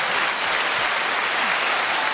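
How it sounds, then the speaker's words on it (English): Steady, dense applause from a crowd, a continuous wash of clapping at even loudness throughout with no voices on top, on a podcast. "Give him a hand clap."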